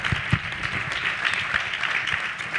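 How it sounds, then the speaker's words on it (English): Audience applause at a convention hall event, a dense steady patter of many hands clapping at moderate loudness with a few louder claps near the start and no voices over it. "Applause, please."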